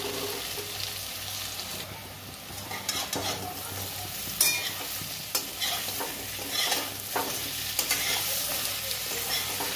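Elephant foot yam and red lentil fritters fry in hot oil, giving a steady close sizzle broken by scattered clicks and scrapes of stirring.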